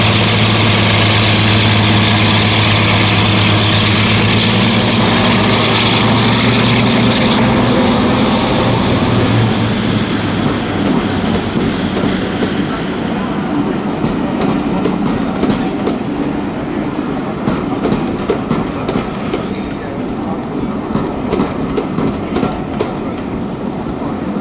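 LSWR T9 steam locomotive 30120 Greyhound pulls away from a Severn Valley Railway station toward Kidderminster. A loud, close rumble with low steady tones gives way to rhythmic wheel clatter and chuffing as the train gathers pace.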